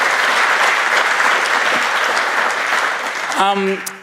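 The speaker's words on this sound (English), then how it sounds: "So let's give him one more round of applause for his final appearance" A full round of applause from the gathered crowd at a celebration of life, loud and sustained throughout, then tapering near the end as a voice briefly speaks over it.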